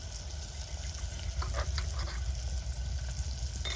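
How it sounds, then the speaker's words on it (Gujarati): Chopped onions frying with salt, coriander-cumin powder and other spices in a pan for an elephant foot yam curry: a steady, close sizzle with soft crackles and a few stirring scrapes, no talking. "હવે જો આપણે ડુંગળી મસ્ત તળાઈ ગઈ છે"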